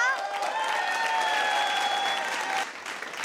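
Studio audience applause at a Hindi comedy show, a dense steady clatter of many hands that holds evenly for about two and a half seconds, then thins and eases off toward the end, with faint tonal music lines running above it.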